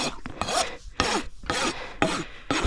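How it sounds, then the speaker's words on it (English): The aggressive side of a rasp is dragged across a horse's hoof toe in a series of about six loud, close, scratchy strokes at a steady rhythm, each a short rough burst with brief gaps between. "I'm going to use the aggressive side of my rasp and bring that toe back just a little bit from the top"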